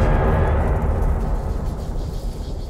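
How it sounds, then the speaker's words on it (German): A heavy explosion from the black weapon in the video game Battlefield Bad Company 2 rumbles loudly as a deep sustained boom that slowly fades, with no talking over it. "Das ist das Geräusch der schwarzen Waffe."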